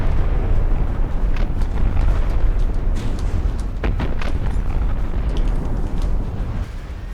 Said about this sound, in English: That's probably torpedo damage right there.